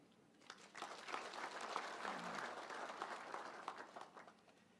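An audience at a Kenyan military ceremony for the new Chief of KDF breaks into applause, a soft burst of many hands clapping that swells, holds steadily for a few seconds, then eases toward the end.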